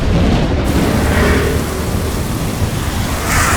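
Heavy rain pours in a dense, loud, continuous roar, with rumbling thunder rolling underneath and nothing else heard.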